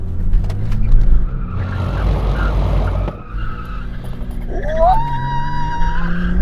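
A 2021 BMW M4 Competition engine roars as tires skid and squeal loudly during a drift, the screech rising and wavering near the end.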